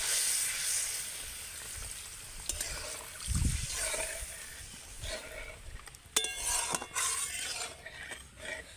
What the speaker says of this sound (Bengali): এবার আমি দিয়ে দেব জল আর এটা কিন্তু উষ্ণ গরম জলই নিয়েছি